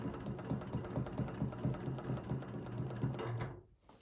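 Domestic or longarm sewing machine stitching a quilt spin design, a fast even whirring needle rhythm running steadily close up before stopping near the end; no talking.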